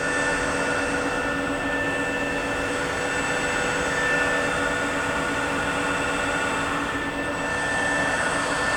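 A Southwestern Industries Trak 1845SX CNC lathe spins at 1050 RPM, a loud, steady mechanical whir with a constant tonal whine, close and unbroken throughout.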